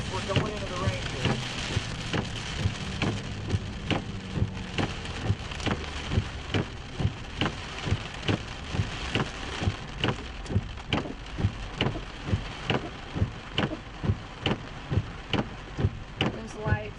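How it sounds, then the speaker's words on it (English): Rain drums on a vehicle during a storm chase in Kansas, a dense close patter over engine and road rumble, with regular thumps sweeping past. "because we're going into the rain here."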